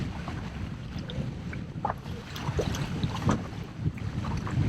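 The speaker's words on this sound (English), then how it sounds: "Oh, here comes boat wake." Small boat-wake waves slap and splash against a fishing boat's hull on Candlewood Lake in uneven bursts, with steady wind rumble on the microphone and lapping water throughout.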